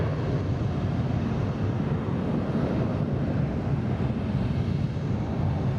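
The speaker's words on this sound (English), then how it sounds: "we have a JetBlue heading to Tampa, an A320" A JetBlue Airbus A320 bound for Tampa at Boston Logan airport gives a steady, broad, low engine roar, continuous and moderately distant, with wind noise and no talking.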